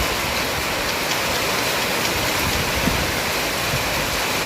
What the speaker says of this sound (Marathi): बापरे बाप, काय जोराचा पाऊस. गारांचा पाऊस पडत आहे.